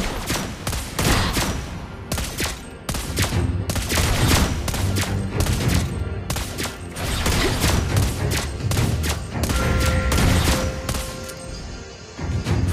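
Rapid, dense bursts of automatic gunfire from Mobile Legends: Bang Bang, nearly continuous for the whole stretch, loud and close with explosive impacts and mechanical clatter.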